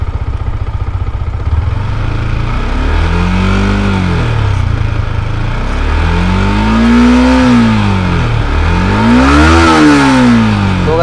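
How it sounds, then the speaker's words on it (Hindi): A BS6 Yamaha MT15 or Honda Hornet 2.0 motorcycle idles loud and close, then revs in repeated rising-and-falling throttle blips that climb toward 10,000 RPM, with no talking over the engine. "तो थोड़ी सी एक्सेलेरेटर लेते हैं।"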